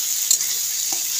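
Fried eggs stirred into a frying egg and potato curry, with a constant sizzle and a couple of soft spatula scrapes, close and without speech.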